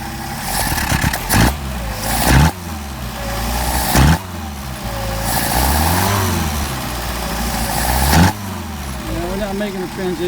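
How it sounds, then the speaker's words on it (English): A Mercedes 190SL engine with freshly rebuilt carburetors runs close by, idling roughly and then rising into several revs with sharp throttle blips, while someone talks over it. "Making a transition from idle to higher RPM."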